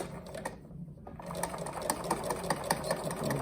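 A sewing machine runs a wide stitch through a fabric mask, a rapid mechanical chatter with a brief pause near the start before resuming steadily, no speech.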